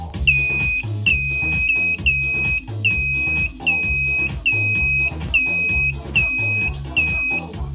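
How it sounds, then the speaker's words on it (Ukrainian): A turn signal buzzer mounted inside a homemade vehicle instrument panel beeps in a steady, repeating on-off rhythm, about ten even pulses, close and fairly loud over a low rumble. "Так як зумер, я казав, встановлений всередині, отже, продемонструю вам."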